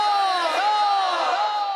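A crowd at a naat competition answers a chant in unison, a loud sustained mass of shouting voices that rises briefly and holds steady throughout.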